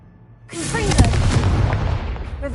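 A Confringo blast spell bursts in Hogwarts Legacy inside a haunted Hogsmeade shop, a sudden loud boom followed by a rumbling, crackling tail that slowly fades.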